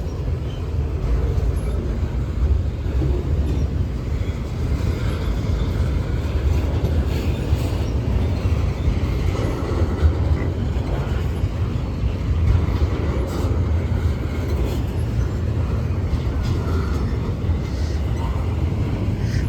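A heavy Norfolk Southern freight train rumbles steadily past in Gaffney, South Carolina, a continuous low roar with faint clanking and rail noise throughout, fairly close and constant in level.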